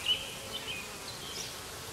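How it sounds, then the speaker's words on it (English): Honeybees buzz steadily and close by around foundationless hive frames, a thin continuous hum with a few individual bees passing near, and no voices. "Oh, they're buzzing my face."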